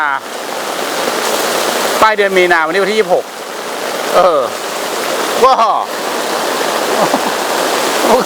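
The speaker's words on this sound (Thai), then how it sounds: "ฝนตกแบบไม่ลืมหูลืมตาคุณ" Heavy rain pours steadily at a riverside campsite, a dense, constant hiss of water drumming on a tent and tarp throughout, with someone talking over it at intervals.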